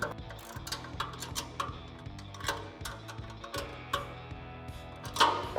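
Ratchet clicks tightening bolts on a front bumper bracket of a 2018-2020 Ford F-150 heavy-duty replacement bumper, a steady run of close mechanical ticks in repeated bursts with no voices.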